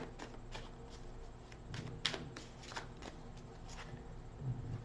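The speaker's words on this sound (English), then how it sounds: "2 more shuffles off the top of the deck." Soft, papery riffling of cards in several quick bursts, close by, with a faint low hum underneath and no talking.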